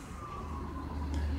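A siren's wailing tone, somewhat distant, sliding slowly downward under a low engine-like rumble.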